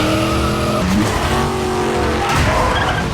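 An American muscle car in a Fast & Furious scene revs loudly with squealing, skidding tires, its engine pitch shifting sharply as it races, all intense and close with no talking.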